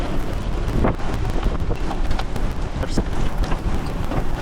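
Heavy rain and gusting wind in a tornado-producing storm, a dense constant roar buffeting the microphone, loud and close with no talk.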